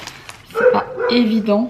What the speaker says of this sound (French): Là, ce que vous entendez, c'est mon chien.